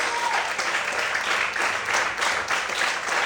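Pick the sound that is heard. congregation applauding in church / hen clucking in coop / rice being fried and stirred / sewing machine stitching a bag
congregation applauding in church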